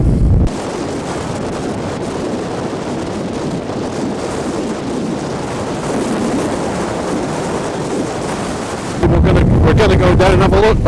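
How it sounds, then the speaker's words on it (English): Strong wind buffets the microphone in a loud, roaring rush at a Roman fort, continuing throughout, with a brief voice near the end. "my God, this wind is awful."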